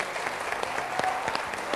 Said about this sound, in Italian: Tutti per te, gli applausi